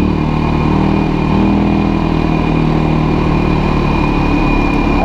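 A Kazuma Jaguar 500 4x4 ATV engine runs steadily and loudly up close, a continuous mid-pitched rumble with a constant drone and no pauses.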